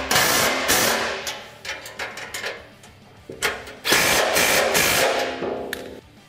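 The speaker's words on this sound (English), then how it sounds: "We'll stick an Allen wrench on one side and we'll come to the other side and fully tighten it." Tightening winch bumper mounting hardware with an Allen wrench on a Polaris Ranger XP 1000 UTV. Several bursts of metallic ratcheting and scraping come close by, separated by short pauses.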